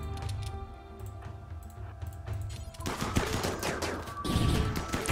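RimWorld gunfire crackles in quick irregular bursts, sparse sharp shots at first then denser rapid volleys in the second half, fairly close and loud with no voices.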